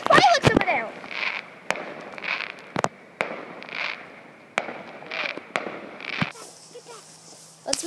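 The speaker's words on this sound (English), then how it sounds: "Look at this fireworks over there!" Fourth of July fireworks burst repeatedly at a distance, sharp cracks and pops ringing out against a steady hiss of crackling, with a brief higher whine near the end.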